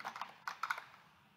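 Typing on a computer keyboard while entering an address, a quiet run of light, irregular key clicks that fades out toward the end.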